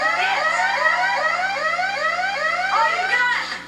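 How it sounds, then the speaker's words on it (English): A wailing siren rises and falls in repeated sweeping tones, loud and steady throughout with no talk over it. "Listen to the siren."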